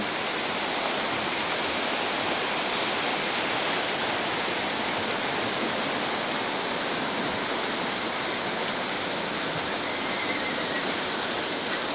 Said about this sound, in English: It's supposed to be a major kind of event, but so far it's pretty light. But it does rain.